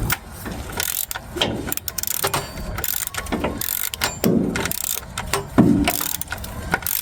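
Ratchet clicking in repeated bursts while bolting transmission parts with spacers on a 1963 GMC truck, loud and close in a garage with no talk.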